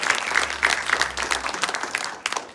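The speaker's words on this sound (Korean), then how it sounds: "박수 한 번만" An audience breaks into a short burst of applause at a book talk, dense clapping from a small crowd heard close up for a couple of seconds.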